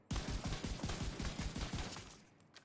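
A rifle fired in rapid succession in The Division 2, about a dozen sharp, evenly spaced shots in a quick rhythm, close and punchy, before tapering off into silence.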